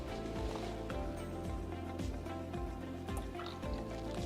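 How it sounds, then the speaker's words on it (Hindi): Water poured into a mixture of oil and a Zameen Silico super spreader, with steady splashing, dripping and trickling close by and some faint background talk. "अभी इसका ऊपर मैं थोड़ा सा पानी डालूंगा"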